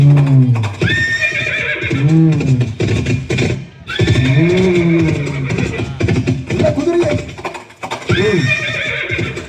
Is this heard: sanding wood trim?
no